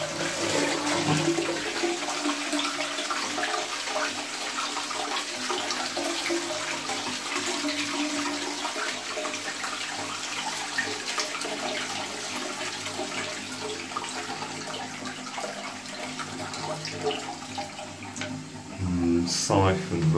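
An Ideal Standard Tiara toilet in a pub flushes with a steady, loud rush of water that runs throughout as the siphon takes hold, with a brief gurgling surge near the end.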